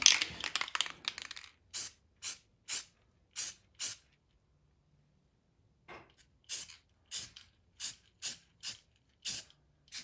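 Short bursts of spray paint lay a yellow coat on a pinball playfield, about a dozen even, sharp hisses in a regular rhythm with brief silent gaps, close and isolated.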